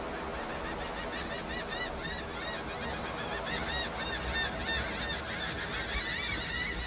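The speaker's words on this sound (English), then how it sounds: "Okay, the birds are going crazy." A flock of birds honks in the fantasy game Divinity Original Sin 2, goose-like calls overlapping continuously over a steady ambient background, fairly loud and without speech.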